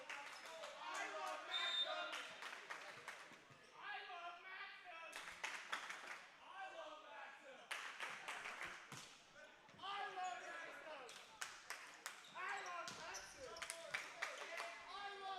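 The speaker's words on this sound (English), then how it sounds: "Good cheering from the bench" Men's volleyball bench players cheer and clap during a college match, with bursts of sharp clapping and shouts in an echoing gym while a commentator talks over them.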